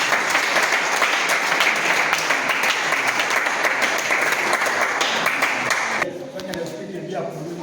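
A synod audience at Bambidie applauds to acclaim the Lord, producing dense, loud, continuous clapping with cheering voices mixed in, then thinning out near the end.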